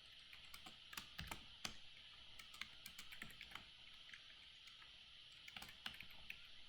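Keystrokes on a computer keyboard as an invoice number is entered, quick faint clicks in short irregular bursts over a steady background hiss, with no voices.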